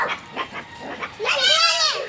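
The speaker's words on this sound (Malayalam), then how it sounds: "കുറച്ച് പട്ടി കുട്ടികൾ കണ്ട്" Puppies give short yips and then a higher, drawn-out whimper, close by and fairly loud, with people's voices mixed in around them.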